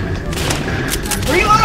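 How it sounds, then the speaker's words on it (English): Gunfire rattles through a shooter match in the game Double Action Boogaloo. Loud, dense shots pile into a continuous barrage that swells toward the end. "Oh, who's shooting me?"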